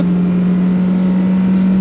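An 83-horsepower car at full throttle on the Nürburgring, heard from inside the cabin as a loud, steady engine drone with a strong low tone holding pitch and broadband road and wind roar throughout.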